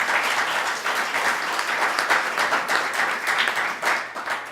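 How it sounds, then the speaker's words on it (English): A crowd at the grand opening of a sports hall of fame in a castle museum gives a round of applause for guests, loud, dense clapping rising and falling slightly throughout. "Could I have a round of applause for these people?"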